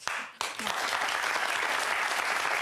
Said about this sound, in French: Ils applaudissent comme si elle avait trouvé le remède contre le cancer